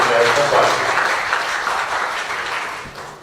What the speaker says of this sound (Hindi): शायर जनाब फैज अहमद कादरी साहब तशरीफ फरमाए और दो तालियों के साथ आप